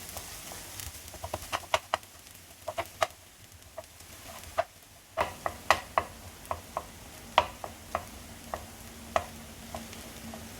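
Squid cooks in a pan for pineapple Thai fried rice, giving a low steady sizzle broken by frequent light ticks and taps of a spatula stirring, close by and fairly quiet, with no voices.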